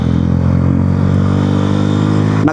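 A motorcycle engine struggling with a hard start runs as a loud, steady close-up drone with harmonic hum, cutting off abruptly near the end.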